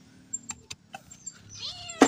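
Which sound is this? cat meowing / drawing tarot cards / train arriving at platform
cat meowing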